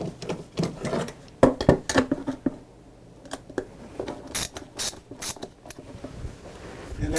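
Small Cobalt ratchet screwdriver working screws while making base plates: irregular bursts of light, close ratcheting clicks and taps, with quieter gaps between.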